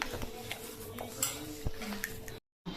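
Batter mixed by hand with crushed garlic for parippu vada gives soft, close squelching and rubbing in a bowl, with faint clinks of a dish and a brief silent gap near the end, and no talking.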